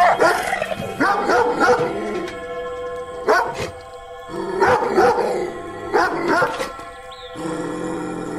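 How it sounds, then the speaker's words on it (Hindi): A dog barks loudly in repeated bursts, a few sharp barks at a time with short pauses between, close by. "बहुत जोर जोर से भौंकने लगता है।"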